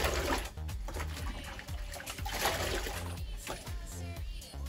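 Tap water running and splashing while a human hair full lace wig is washed, a continuous trickling wash with uneven splatter, fairly quiet and without talk.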